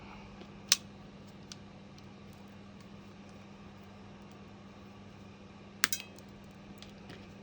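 Cutting the backs off small cameo buttons, likely with snippers: two sharp, brief snaps spaced several seconds apart, close and alone in a quiet room, each followed by a faint small clatter.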